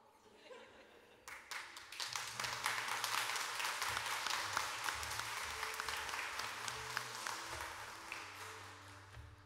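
A church congregation at a Sunday Mass bursts into applause, starting quietly and swelling into sustained, dense clapping that holds for several seconds with a few louder claps and faint murmurs.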